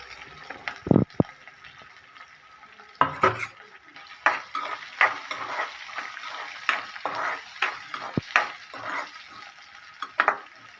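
Onions go into hot oil for wheat rava upma, with a spoon scraping and stirring in the pan: sharp metallic knocks and clinks spaced irregularly over a faint background sizzle, close and fairly quiet.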